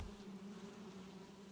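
Continuous droning buzz of poisonous bees in a video game, a steady, moderately quiet hum heard on its own.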